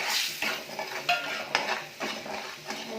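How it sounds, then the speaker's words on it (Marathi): Onion-garlic masala, red chilli powder, salt and turmeric stirred into hot oil in a pan for a snail curry, with a spoon scraping and clinking against the metal in bursts over a soft, steady sizzle. "मी दोन चमचे कांदा लसूण मसाला लाल तिखट मीठ हळद सर्व ह्याच्यात टाकून घेणार आहे तेलात"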